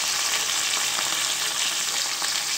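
Chopped onion, green chili and curry leaves fry with mustard seeds in hot oil, giving a loud, steady, close sizzle with faint stirring, and no voices.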